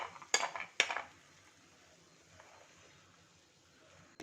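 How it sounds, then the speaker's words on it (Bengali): Fried lentil dumplings lifted from oil onto a dish, two sharp metallic clinks of a utensil against the plate close by, then quiet handling and a final clink at the end. "বড়ি ভাজা হয়ে গেছে, এবার আমি বড়িগুলোকে তুলে নিচ্ছি একটা ডিশে।"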